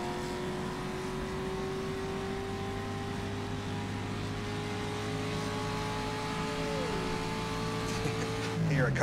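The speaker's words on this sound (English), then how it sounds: "Hear a car go by over the oval there." A 1950s racing car engine drones steadily with shifting pitch at Monza in rFactor 2, and another car whines past over the oval near the end as the engine note drops and rises.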